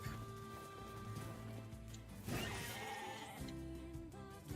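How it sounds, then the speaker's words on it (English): Sheep bleating in the Nier Replicant video game, a few drawn-out bleats heard over the game's continuous music and ambience at moderate level. "More sheep!"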